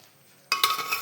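Cooked kootukari, a Kannur-style Kerala curry, is tipped from a pressure cooker into a pan, making a sudden metallic clatter and scrape of cookware followed by a second clink, brief and fairly close.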